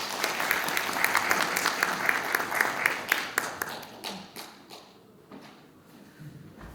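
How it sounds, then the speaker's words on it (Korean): An audience at the opening ceremony of an academic society's autumn conference applauds a guest speaker with a dense, steady round of clapping that gradually thins and softens toward the end. "큰 박수 부탁드립니다"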